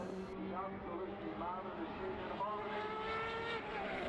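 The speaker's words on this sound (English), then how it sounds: "Great sound from the World Series car." A World Series race car competing in an Irish Formula BOSS championship round screams past on track, its engine note climbing through gears in rising whines over crowd and circuit noise, with commentary talk underneath.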